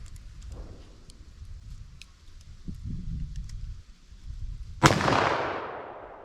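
.357 Magnum hunting ammunition fired outdoors at a 75-yard target: one sharp, loud gunshot near the end with a trailing echo, after quieter rustling and handling sounds.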